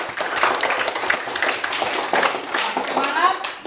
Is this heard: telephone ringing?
no